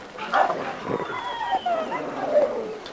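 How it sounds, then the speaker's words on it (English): A dog in a kennel yard gives a few close, high yips and whining barks in short, uneven bursts over a quiet outdoor background. "This is our Thunder dog."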